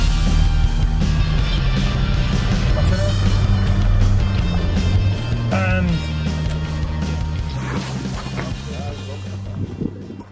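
A Trabant's two-stroke engine runs steadily during a Berlin tour near Checkpoint Charlie, a loud, continuous low buzzing drone with wind buffeting, while people talk over it.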